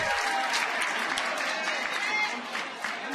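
Crowd at a Major League Pickleball match in Kansas City applauds and cheers a point, a steady dense roar of clapping throughout with commentators talking over it.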